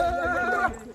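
A horse in Pahalgam, Kashmir, gives one loud, close, quavering neigh lasting under a second, with no talk over it.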